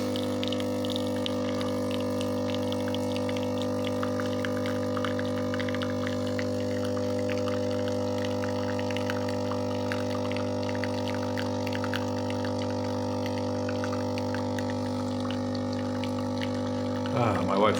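A Delta Q capsule coffee machine brews with a steady pump hum and a layered mechanical drone, continuous and close throughout, with a faint liquid trickle and a brief louder clatter near the end.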